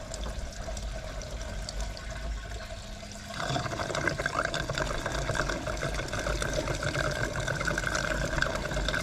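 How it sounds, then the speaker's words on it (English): Gasoline poured from a can into the fuel tank of a wood chipper outdoors, a steady liquid trickle that grows louder and fuller partway through and keeps running. "Now be careful when you're pouring gas."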